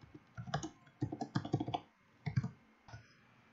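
Someone types a name on a desktop or laptop computer keyboard in irregular bursts of close, crisp keystrokes separated by brief pauses, with no voices.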